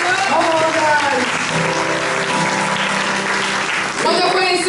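A church congregation applauding the Lord, a loud, dense wash of clapping and cheering that goes on throughout, with voices and a sustained musical tone underneath.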